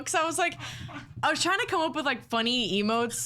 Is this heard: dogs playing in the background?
yes